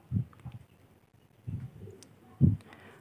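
Low cooing from a pigeon, three soft throaty bursts spaced apart, close by with quiet background in between.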